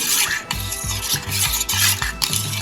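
A spoon stirs sugar in a glass or bowl for lemon sharbat, scraping and clinking in quick repeated strokes, close and loud, with no voices.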